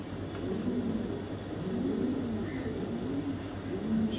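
An imported Iraqi male racing pigeon from 2021 coos in a steady repeating rhythm, close by, with a low background hum and no talking.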